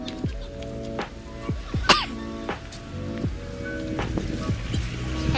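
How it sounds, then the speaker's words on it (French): A person coughs several times in short separate bursts, close and fairly loud, over a low steady background hum. "Je tousse."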